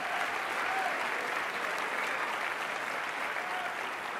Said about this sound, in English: I'd love to give yourself a round of applause, guys.